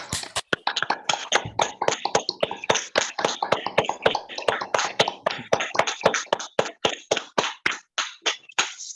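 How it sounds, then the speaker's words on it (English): Online meeting audience unmuting to applaud: a stream of scattered, close-miked claps and taps over several seconds, uneven and sparse rather than a full-room ovation. "Can you please unmute and give Ian a big round of applause?"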